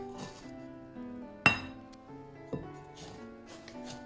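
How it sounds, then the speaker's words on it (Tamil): Icing sugar, desiccated coconut and tinned milk being mixed in a bowl for coconut ice, with clinks and knocks of a utensil against the bowl, two sharper taps standing out, over soft background music. "எல்லாத்தையும் சேர்த்து வடிவாக மிக்ஸ் பண்ணணும்."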